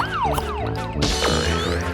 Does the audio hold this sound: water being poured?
no